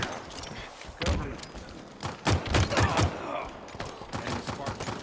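Halo Infinite match gunfire on the Live Fire map, a string of bursts and thuds of fairly quiet automatic fire with a burst around the middle, mixed with game voice callouts.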